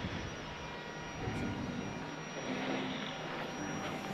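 A distant airplane engine drones steadily on Helgoland as the aircraft takes off or lands, a broad airy rush that holds at an even level with slight swells and no voices.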